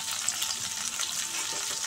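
Potatoes fry in hot oil for a cabbage kofta curry, giving a steady, close sizzle with soft crackle and light stirring throughout, no voices.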